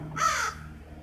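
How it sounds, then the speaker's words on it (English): A single harsh, hoarse caw from a raven or crow, close and fairly loud, dropping into quiet afterward. "I think Xanadu is a raven, and I love ravens."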